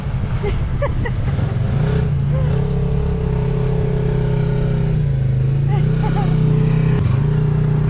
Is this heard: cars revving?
yes